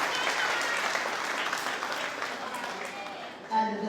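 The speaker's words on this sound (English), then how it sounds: "Give him a clap, man." Applause from an audience at a primary school leaving ceremony, honouring a pupil. Steady clapping runs throughout at a fairly loud level, with a brief louder swell near the end.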